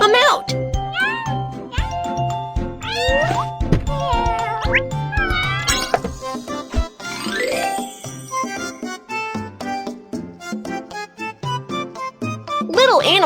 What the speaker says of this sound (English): Yeah, the kitten has come out.